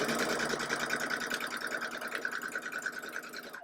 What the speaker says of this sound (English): I'm going to sew through that intersection and then completely off